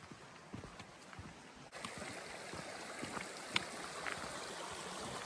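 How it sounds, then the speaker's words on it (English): A clear mountain creek in Kananaskis runs beneath a hiking-trail footbridge, a soft, steady gurgling flow with scattered small splashes and taps, fairly quiet and without talk. "Creek crossing, nice bridge."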